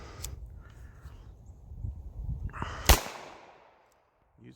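A Taurus Spectrum pistol fires a single sharp shot at a range, loud and close, following a stretch of low rumbling noise and a faint earlier crack.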